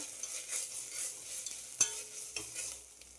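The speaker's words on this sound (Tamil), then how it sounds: "அதை போட்டு நல்லா வதங்குற வரைக்கும் கிண்டி விட்டுருங்க" Ginger garlic paste frying with onions in a pan while chicken gravy is cooked, quiet sizzle under a few spatula scrapes and one sharper clink, no talking.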